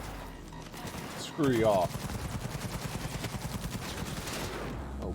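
Gunfire in the video game Cyberpunk 2077 rattles as a steady, rapid automatic burst for several seconds after a brief louder electronic sweep, with a short spoken line over it.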